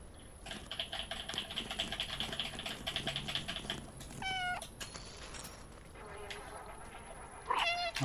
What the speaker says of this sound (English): Forgot about my meow.